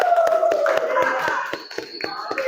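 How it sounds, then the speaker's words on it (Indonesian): Group applause in a classroom-style session, a run of sharp, evenly spaced claps over a steady background voice, fairly close and loud. "tepuk tangan untuk"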